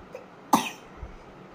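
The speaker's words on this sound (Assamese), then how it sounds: "এয়া কাহ হৈ আছে।" An unwell girl gives one sharp, close cough, followed by a quieter throat sound a moment later, with no talking.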